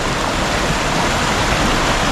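Steady, dense rush of running water from a stream swollen after heavy rain, like a fast stream close by, continuous with no pauses or voices.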